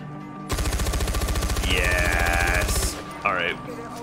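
Mounted machine gun in Far Cry 4 firing one long, loud, rapid burst of evenly spaced shots lasting over two seconds, followed by a brief metallic clank and a short game effect.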